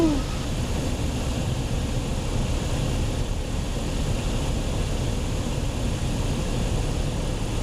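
Steady broadband drone of a small airplane's engine and propeller on a slow, stable landing approach with full flaps over farm fields, continuous and fairly loud inside the cabin with no clear speech.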